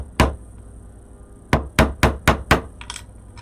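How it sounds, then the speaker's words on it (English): A hammer drives a nail into a Christmas door hanger with one sharp strike, a pause, then five quick evenly spaced blows, close and loud, with a faint light clatter at the end. "And then this we're going to hammer in"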